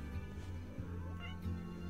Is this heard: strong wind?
no